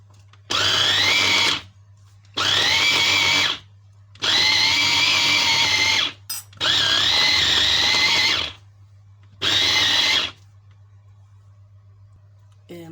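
An electric meat grinder runs in five loud bursts of one to two seconds each, mincing a dampened rice kofta mixture for a second pass, with short quiet gaps between the runs.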